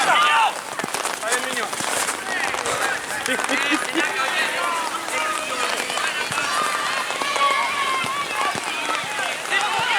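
Heavy rain pouring over an outdoor football pitch during a match, a constant hiss beneath frequent loud voices of players talking and shouting nearby.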